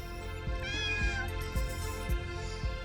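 A cat meows in a video game, a drawn-out, clear meow set over steady background game music with soft rhythmic thumps, no talking.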